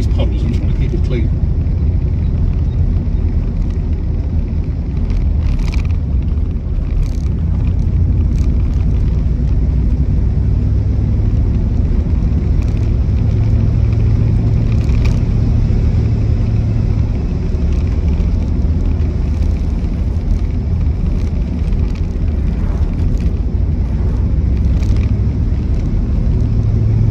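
A 1960 Cadillac Coupe de Ville rumbles along at a slow cruise, its engine a steady low drone with road noise and splashes, while someone talks over the constant hum from inside the car.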